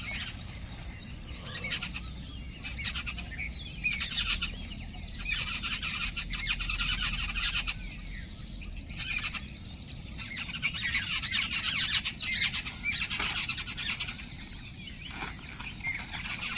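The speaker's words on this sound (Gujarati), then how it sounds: "હા જો કેટલા બધા મોર આયા." Several peacocks call outdoors with repeated high, squealing cries, overlapping and fairly close, over a steady background hiss and with no talking.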